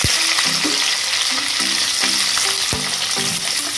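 Chopped onions frying in hot oil for chilli chicken, a loud, dense, continuous sizzle with a few sharp clacks of a spoon against the pan.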